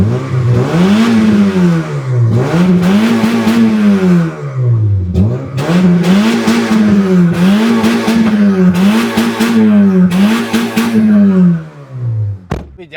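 A worked-on car's engine revved repeatedly, about eight rising-and-falling surges from the exhaust, loud and close, each climbing in pitch then dropping back, ending with a few quieter blips.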